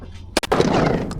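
A close shotgun blast fired at pigeons on a dairy farm, heard as a sharp double crack followed by a rolling boom that fades over about a second.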